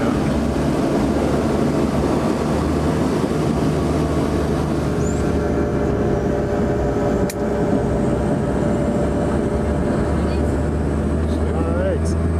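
Inside the cabin of a passenger airplane touching down on a runway in Nepal, a constant loud roar of engines and rolling rumble fills the whole stretch, with no clear separate bump standing out.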